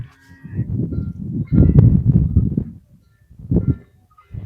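Herded cattle on a farm lowing in several deep, drawn-out moos of varying length, close and fairly loud, with short quiet gaps between the calls.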